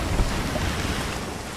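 Wind fills the sails of a ship in a video game, a dense, steady rushing roar that stays even and close for the whole stretch, with no talking.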